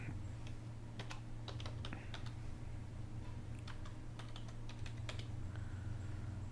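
Someone types a password on a computer keyboard in soft, irregular bursts of clicking keys, heard faintly over a steady low electrical hum.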